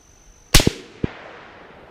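A CMMG AR rifle chambered in 350 Legend fires a single loud, sharp shot outdoors, followed by a short echoing crack and a fading tail, with a thin tone before it.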